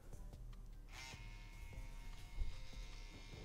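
A Hummingbird tattoo machine running on a Bronc R1 wireless power supply gives a faint, steady electric buzz with a low hum, heard close and alone.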